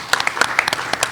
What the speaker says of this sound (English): they definitely deserve a round of applause